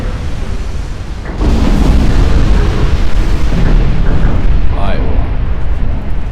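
Massive 17-inch naval guns on a battleship in Ultimate Admiral Dreadnoughts firing with a sudden heavy boom that swells into a loud, sustained rumbling roar, while a voice speaks over the din.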